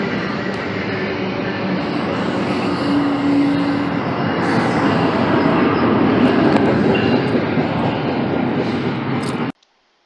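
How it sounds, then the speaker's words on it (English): A train pulls in to Secaucus Junction station with a loud, continuous rumble of rail cars rolling along the track, holding steady and slightly building before cutting off abruptly near the end. "there was one I had of the train actually pulling in to Secaucus Junction."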